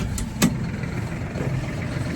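A tractor engine idles in a steady low rumble, with a brief knock near the start and otherwise an even, unbroken drone.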